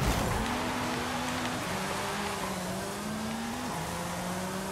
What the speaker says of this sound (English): we're starting things off with the 2019 Aston Martin Valhalla concept car